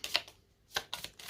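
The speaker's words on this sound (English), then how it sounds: "I'll give these a shuffle." Tarot cards being shuffled by hand, a few short crisp riffles and taps in quick uneven bursts, close and quiet with no talking.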